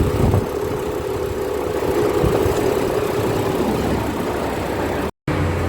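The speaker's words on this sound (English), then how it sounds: "So gonna run some engine flush through this for a little bit just to see how it goes." Volvo V70 engine idling with engine flush added to the old oil, a steady, close mid-range hum with faint vibration and no speech, ending in a brief dropout.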